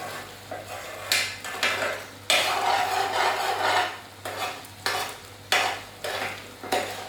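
A spoon stirring chicken korma sauce in a pan, with repeated scraping sweeps in an uneven rhythm over a soft sizzle, close and clear.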